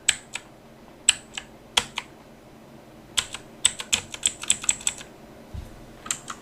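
Keys on a computer keyboard are pressed in sharp, close clicks, some single and spaced apart, others in quick clusters, against a quiet background.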